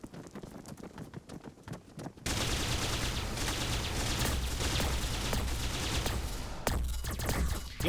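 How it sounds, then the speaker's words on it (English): Sustained rapid weapon fire in a large Warhammer 40K battle between T'au and Cadian forces, a dense roar of overlapping shots with a pulse shotgun in the mix, starting abruptly after quieter clatter and continuing loud and unbroken for several seconds. "You got the pulse shotgun going."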